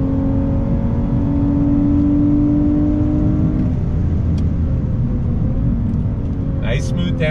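A 2021 Lexus IS350 F Sport engine drones steadily and loud, its pitch stepping down through downshifts with a short blip near the end, no talking over it.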